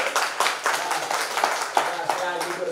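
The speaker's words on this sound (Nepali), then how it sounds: "यस कारणले यस सभाका सभाध्यक्षज्यूलाई सबैले ताली बजाएर" An audience at a journalism award ceremony claps to welcome the chairperson of the gathering. The clapping is quick, steady and moderately loud, with a voice speaking over it throughout.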